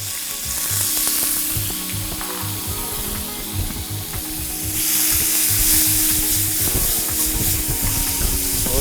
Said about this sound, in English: So our oil is ready. Now this is the time we're going to introduce our beef.